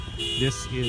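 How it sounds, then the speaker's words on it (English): Car alarms wail in repeating, shifting electronic tones at a Remembrance Day ceremony while a person begins talking over them. "You can hear a lot of car alarms going off."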